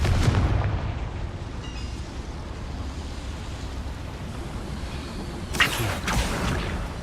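A Confringo blasting spell goes off in Hogwarts Legacy, a loud booming burst at the start trailing into a rumbling roar, with a second sharp crackling blast near the end.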